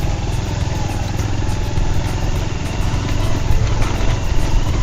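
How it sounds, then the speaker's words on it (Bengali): A motorcycle climbing an extreme, steep hill road near Barikatila gives a loud, continuous engine drone that rises slightly toward the end. No voices are heard. "এক্সট্রিম পাহাড়ি রাস্তা, বাইক নিয়ে যাচ্ছি।"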